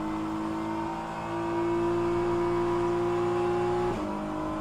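Race car engine in rFactor 2 at Interlagos, holding a loud steady high drone with strong harmonics, then dropping pitch sharply near the end as it shifts or lifts.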